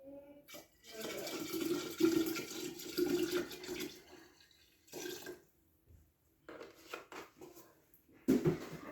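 Rubbing alcohol is poured into a measuring container while mixing a homemade floor cleaner, a few seconds of splashing, gurgling liquid followed by shorter pours and container handling.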